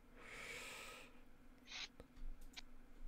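A person vocally imitates the bird calls of kenku creatures during a Dungeons & Dragons tabletop game, giving a long breathy hoot followed by a few short, sharp squawking bursts, close and fairly quiet.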